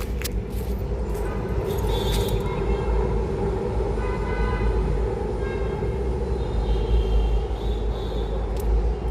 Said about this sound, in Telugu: ఏ ట్రైన్ వచ్చింది